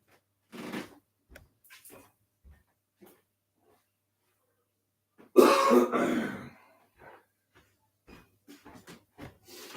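A few scattered throat clears and short coughs, then one louder, rougher cough burst near the middle, with quiet rustling between.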